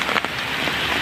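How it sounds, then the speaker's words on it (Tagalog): Heavy rain pours down steadily, a dense hiss of drops drumming on a surface close by, with no voices. "Lakas talaga ang ulan"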